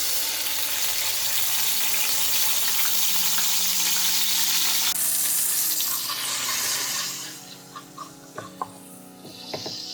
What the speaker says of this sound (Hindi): ऑयल ऐड करते ही मैं इसमें अदरक लहसुन का पेस्ट ऐड कर रही हूँ।